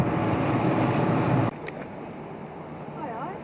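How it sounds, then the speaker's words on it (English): A boat pushes through confused, choppy tidal water near the Brunsbüttel locks on the way into the Kiel Canal, with steady loud wash and wind roar that drops abruptly midway to a quieter churning of water against the hull. "Look at these confused, choppy waters due to the tidal flow."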